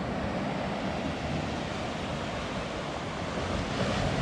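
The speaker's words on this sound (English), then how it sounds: "This is the first time I've seen the sea in a long time." Sea waves rolling in at Skegness on a misty, mild day, a steady broadband wash of surf with wind rumble on the microphone, continuous and fairly close, no voices.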